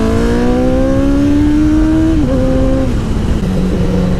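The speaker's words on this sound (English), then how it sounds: "I love the little backfires and stuff too." A car engine runs loud and close, its steady rumbling tone climbing slowly, then dipping and settling lower, with a rough, crackly edge where small backfires could sit.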